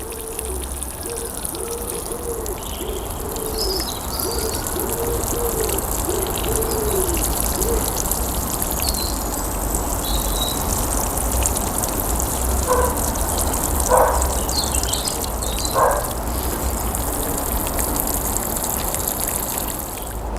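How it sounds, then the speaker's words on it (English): Water poured over freshly divided Karl Foerster feather reed grass plants in pots, a steady trickling splash running throughout at close range alongside faint outdoor birdsong. "And then give them a really good water."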